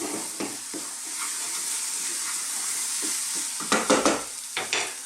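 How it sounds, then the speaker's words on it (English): Spices fry briefly in a pan for a Bengali rohu fish curry, giving a soft continuous sizzle with a few sharp scraping stir strokes, louder toward the end. "I like to cook the spices just for a moment."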